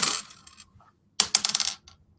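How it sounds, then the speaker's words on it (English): Three dice for the Yakitori board game clatter onto a table in two quick bursts of rattling hits, close and crisp, with a brief quiet gap between the throws. "we're going to take our 3 dice, we're going to roll them"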